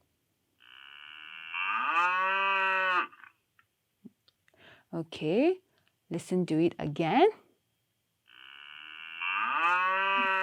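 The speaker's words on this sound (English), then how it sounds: "So the sound of a cow is moo." A cow gives two long, loud, drawn-out moos at the start and end, with a person speaking in between and a few clicks.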